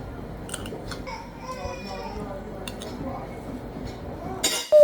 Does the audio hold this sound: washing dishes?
yes